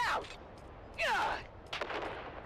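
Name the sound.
grenade explosions and gunfire in Dune Awakening video game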